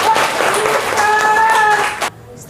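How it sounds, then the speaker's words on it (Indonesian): Children in a classroom clap their hands in a brief burst of applause, fairly close and steady, with a few voices over it before it fades out. "masa Tepuk tangan ya."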